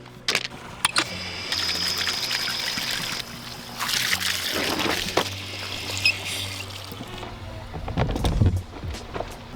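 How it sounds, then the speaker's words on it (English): Water pours and trickles over a stone being rinsed for a baby turtle bin, a steady splashing stream running for several seconds with brief pauses and louder bursts of splatter near the end. "Let's wash it off first though."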